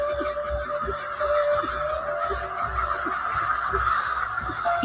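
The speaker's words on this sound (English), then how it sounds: "The crows who gather near the small farming community of Chatham, Canada, know that there are far more enemies here than friends." Crows cawing near a large roost by a farming community at Chatham, Canada, with many birds calling in repeated harsh caws at middle distance over a steady background hum.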